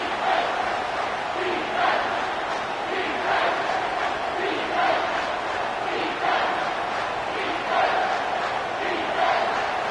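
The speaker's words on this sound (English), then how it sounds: "this crowd is tearing the lid off this place" Stadium crowd in a college football game between Alabama and Georgia, a loud, continuous roar that swells in regular surging waves like chanting, filling the whole clip.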